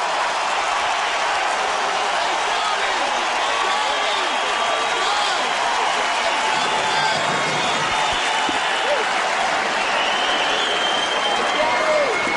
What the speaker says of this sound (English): let's just listen to the crowd